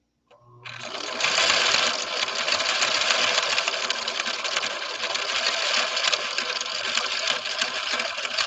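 A 1970s Viking Husqvarna 6030 sewing machine stitches in one steady, fast whir that starts after a short click and runs loud and unbroken, close by, with no talking.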